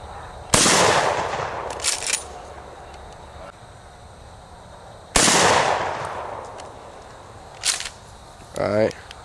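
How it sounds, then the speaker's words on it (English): Two loud shotgun blasts from a 12 gauge Maverick, several seconds apart, each with a sharp crack and a long decaying echo, followed by quieter clicks and a brief pump-action clack. "It's about to shoot my 12 gauge Maverick series."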